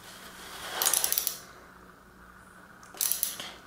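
A crank arm nut is tightened on a vintage women's road bike, two short bursts of quick metallic ratcheting clicks close by separated by a quiet pause, with no one speaking.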